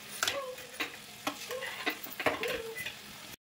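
Banana flower with fried prawns and potatoes stirred in a pan, with repeated scraping strokes of a spatula over a light sizzle, close and fairly quiet, ending abruptly.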